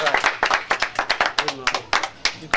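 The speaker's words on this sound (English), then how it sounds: "And a round of applause, please." A small audience clapping by hand after a talk about building currachs at Maghery, a brisk run of distinct, close claps in an irregular rhythm.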